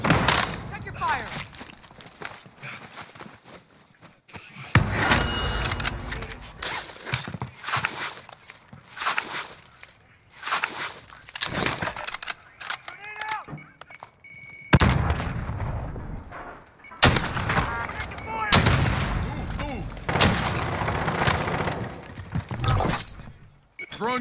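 Bursts of gunfire and explosive blasts from the Warzone video game come in repeated, dense volleys with short gaps, loud and close, alongside occasional footsteps.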